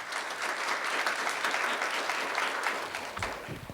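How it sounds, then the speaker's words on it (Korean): An audience at a 2024 compliance symposium applauds warmly to welcome a speaker to the stage, a thick, steady clapping that tapers slightly toward the end as a voice begins. "큰 박수로 앞으로 모시겠습니다."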